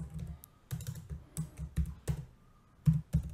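A computer keyboard clicks as a workflow name is typed, with short bursts of keystrokes separated by brief pauses, close and fairly quiet with no speech.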